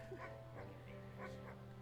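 A small, anxious dog in the video game Wytchwood yips and whimpers frantically in short repeated bursts, steady and fairly close over a quiet game backdrop.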